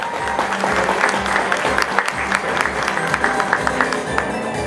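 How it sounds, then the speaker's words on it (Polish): Crowd applause at a bodybuilding and fitness competition in Bytów, steady loud clapping from a large audience filling the hall, continuous throughout. "Wielkie brawa!"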